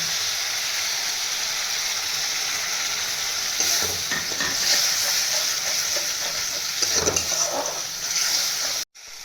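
Steady close sizzling of mustard and poppy seed paste frying in a pan, with scraping and stirring noises rising through the middle and a brief break near the end.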